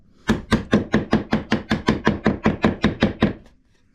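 A mallet smacks a piece into a wooden tissue box with about fourteen rapid, evenly spaced hard knocks, close and loud, before stopping abruptly.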